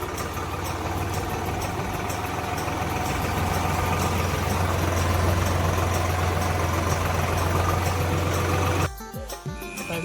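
A tractor engine idles steadily and loudly up close with a low droning hum, then cuts off abruptly near the end, leaving quieter background noise.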